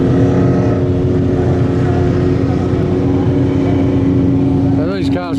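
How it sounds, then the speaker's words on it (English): Race cars at ACT Speedway under lights roll around the track warming up their engines, a steady loud motor drone throughout with a passing engine sweep near the end, under background crowd and talk. "So these cars will just roll around and warm their engines up."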